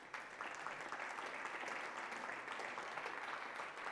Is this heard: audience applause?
yes